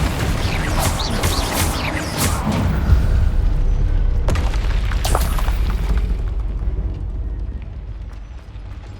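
A Confringo blasting spell goes off in Hogwarts Legacy, giving loud, booming explosive bursts with rumbling low end and a sharp crack around the middle, set against continuous game combat noise.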